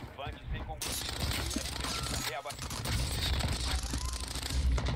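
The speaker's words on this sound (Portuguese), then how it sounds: "O cara errou uns 40 tiros aqui em mim" Rapid video game gunfire in an online shooter, dense bursts of automatic shots and mechanical clatter filling the mix, with a player's voice talking over the action.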